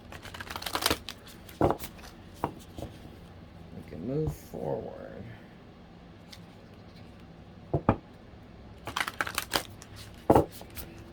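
A deck of large cards is shuffled in repeated sharp riffles and bursts, close and crisp, with a person talking quietly between the shuffles.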